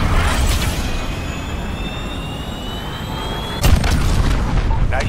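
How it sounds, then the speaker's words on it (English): A cruise missile in Call of Duty Modern Warfare roars past with a loud jet rush and ends in a heavy explosion boom, followed by continued rumbling. "This is Jaguar 3-0, cruise missile away."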